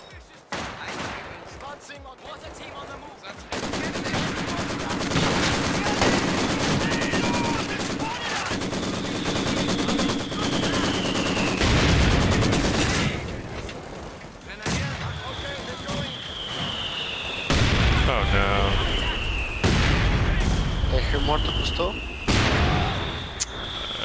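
A machine gun rattles in Company of Heroes during a 4v4 match, long sustained bursts of rapid fire layered with other gunshots and booms, loud and continuous, while a player talks over parts of it.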